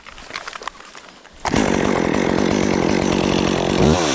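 A chainsaw bites into a tree trunk to cut a felling notch. After a second of quieter idling and handling noise, the saw revs hard and runs loud and steady at cutting speed.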